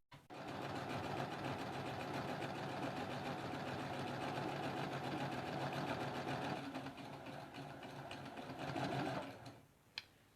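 Sewing machine chain piecing half-square triangle quilt squares, running nonstop at high speed with a loud, close, even buzzing hum before slowing and stopping with a faint click at the end.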